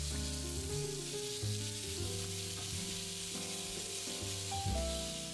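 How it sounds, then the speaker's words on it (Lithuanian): Minced meat with ginger and garlic sizzles in a hot dry pan as it is stirred, a steady close frying hiss with soft scraping of the spoon and no voices. "Maltą mėsą, imbierą ir česnaką pakepiname įkaitintoje sausoje keptuvėje, vis pamaišydami apie 3-4 minutes."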